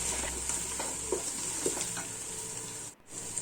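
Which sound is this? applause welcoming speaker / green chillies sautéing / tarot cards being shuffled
green chillies sautéing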